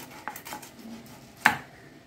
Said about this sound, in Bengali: দেখো, আমি এবার এটাকে পিস করে দিচ্ছি।